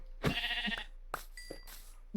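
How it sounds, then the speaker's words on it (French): Sheep bleating in a survival video game: a loud wavering bleat, then a couple of shorter bleats, close and clear over faint game background sound. "je viens de trouver des moutons"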